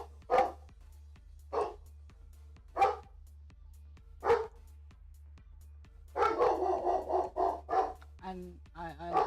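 A dog barks in single sharp woofs spaced about a second apart, then a person speaks over a steady low hum.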